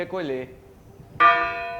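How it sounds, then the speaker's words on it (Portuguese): The bell of an old cathedral in Natal, Brazil, strikes once from high in its tower, a bright ringing tone that sustains after a short spoken word. "o sino da antiga catedral também servia como toque de"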